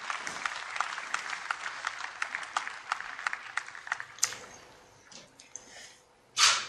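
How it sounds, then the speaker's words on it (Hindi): An audience at a Gujarat natural-farming event applauds to welcome Narendra Modi, with close, crisp individual claps in a busy irregular rhythm that thin out and fade after about four seconds, followed by a brief rustling burst near the end. "आइए तालियों की गूंज के साथ आमंत्रित करें माननीय श्री नरेंद्र मोदी जी को"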